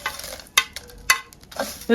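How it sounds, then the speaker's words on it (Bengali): Whole spices are stirred and dry-roasted in a wok for chalta chutney: a soft rustling scrape with a faint crackle, punctuated by a few crisp spatula taps on the pan, close by. "দিয়ে দিচ্ছি বাকি মশলাগুলো।"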